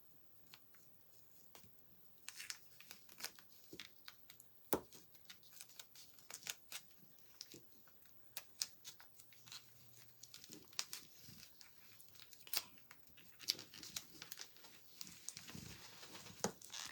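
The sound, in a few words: scissors trimming craft pieces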